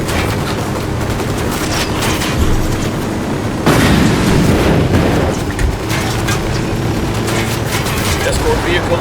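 An escort vehicle explodes during a firefight in Ghost Recon Wildlands: a loud booming blast erupts midway through dense ongoing gunfire and battle noise, with voices talking over the chaos.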